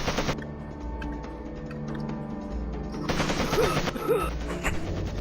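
Rapid automatic gunfire from the shooter game Made Man rattles in steady, loud bursts, with a brief pause and then a louder flurry of shots.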